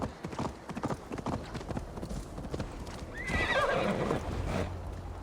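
Rapid hoofbeats of a galloping horse in the video game Assassin's Creed Valhalla drum steadily, and a whinny rises over the running.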